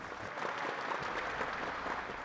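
Applause from an audience at a talk concert, welcoming the mayor of Ansan, a soft, steady patter of many hands, fairly faint and continuous.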